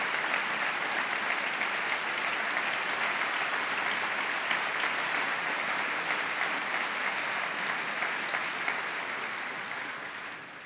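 A conference hall audience keeps up sustained, dense clapping at an even level, which begins to taper off in the final seconds.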